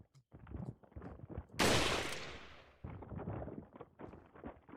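A single sniper shot cracks loudly in the video game Resident Evil 4 (2005), a sharp broadband burst that decays over about a second, surrounded by quieter game noises.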